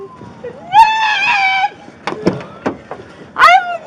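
An intoxicated woman screams in long, loud, wavering wails during a police bodycam struggle, with sharp bangs and handling noise between the cries and a final short shriek near the end.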